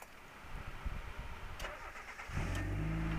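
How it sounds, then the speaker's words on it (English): A 1990 Mazda Miata is started with a push-button starter: a soft cranking rumble, then the engine catches and settles into a steady, close idle. "It's awesome getting in the car and starting it up like that"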